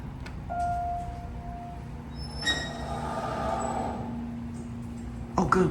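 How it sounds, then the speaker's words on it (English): An Otis Series 1 hydraulic elevator motor in a Sugar Land, Texas building runs with a steady low hum under the car's noise. A brief tone sounds early, and a sharp clatter comes near the end. "Nice, we can hear the motor."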